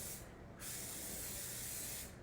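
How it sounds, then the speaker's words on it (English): Aerosol spray paint hisses steadily onto a homemade caddy tray outdoors, a close continuous burst with a brief break near the start. "when we're spray painting"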